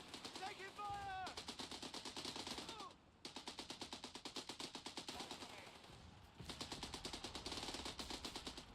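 Rapid automatic gunfire in a squad-based war video game, long loud bursts of machine-gun fire with a short pause, while voices speak over the shooting.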